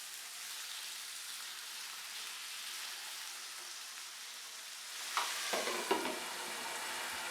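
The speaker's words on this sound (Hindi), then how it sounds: "आलूओं को कवर करके तकरीबन 4 से 5 मिनट के लिए फ्राई करेंगे ताकि ये अच्छे से फ्राई भी हो जाएं और नरम भी हो जाएं।" Potatoes frying in about a quarter cup of oil in a covered pan for a Spanish omelette give a steady, even sizzle, then a few sharp clatters from the pan or lid near the end.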